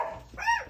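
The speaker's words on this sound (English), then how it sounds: "Sorry about the dogs." A dog gives one short, high bark indoors. It is brief and fairly faint.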